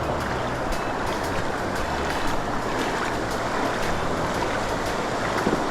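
River water rushes steadily around a cyclist wading across a cold river on Mindoro Island, a dense broadband wash of current and splashing held close and constant throughout.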